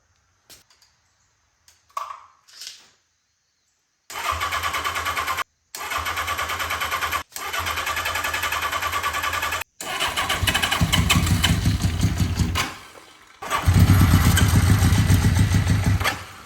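A few faint clicks, then a Honda CB650 motorcycle engine cranks and catches several times in loud bursts, finally settling into a rough, close idle.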